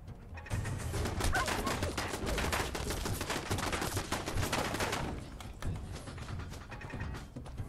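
Rapid automatic gunfire from turrets in Fallout 4, a dense sustained barrage of shots rattling continuously and loudly for several seconds before easing slightly near the end.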